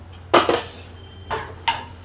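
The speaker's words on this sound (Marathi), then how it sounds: "हे सगळं मिश्रण ढवळून घेऊया।" A spoon scrapes and knocks in a cooking pan, stirring a spice mixture of tomato, turmeric, coriander-cumin powder, garam masala and Malvani masala. Three short, close clattering strokes are separated by quiet gaps.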